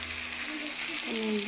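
Ridge gourd frying in a pan with ginger paste and spices makes a soft, steady sizzle, with faint tonal squeaks near the end.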